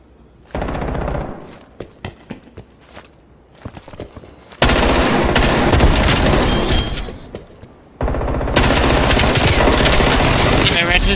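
Automatic gunfire in Call of Duty Black Ops Cold War, with scattered single shots followed by long, loud, sustained bursts of rapid fire close up, broken by short pauses, with voices heard in between.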